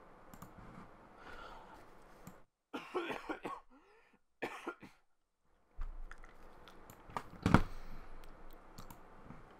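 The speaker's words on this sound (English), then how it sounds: "Just had to cough a little bit there." A few short, sharp coughs break up a quiet room, with scattered clicks and brief gaps of near silence between them.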